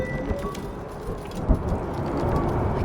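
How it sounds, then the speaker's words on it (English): A thunderstorm with rain in the video game Return to Grace: a continuous wash of rain hiss under low rumbling, with a soft thunder thump around the middle, no talking. "I can't believe this storm."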